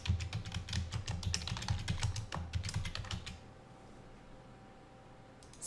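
A section name being typed on a computer keyboard: a quick run of crisp, close key clicks for about three seconds, then quiet room tone with no talk.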